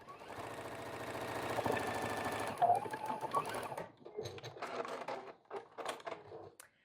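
A sewing machine stitches the corner of a flannel baby blanket, a quiet close run of rapid mechanical whirring that stops and restarts in short bursts.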